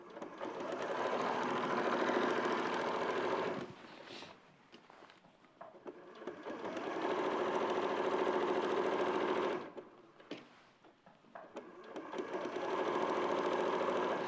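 Sewing machine running up a side seam and around a pocket, loud continuous motor whir in long bursts, dropping out twice into quieter handling noises before starting again.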